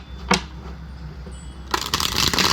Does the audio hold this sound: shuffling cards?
yes